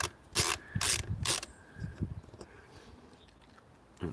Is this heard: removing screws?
yes